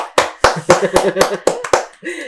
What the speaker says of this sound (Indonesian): Luar biasa, kita tepuk tangan deh